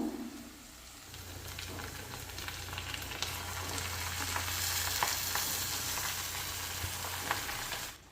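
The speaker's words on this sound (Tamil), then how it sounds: "நம்ம கீரையும் காயும் பொரியல் பண்ணிடலாம்" Greens and vegetables sizzle and crackle steadily as they are stir-fried for a Tamil poriyal with tomato, a close continuous frying hiss with a few faint clicks of stirring and no talk.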